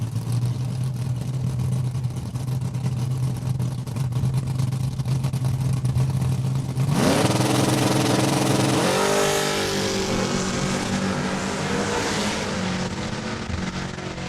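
A Chevelle and a Camaro drag car idle with a low rumble at a Saskatchewan quarter-mile strip, then launch together in a loud roaring surge of revving engines climbing through gears, close and sustained, no talk.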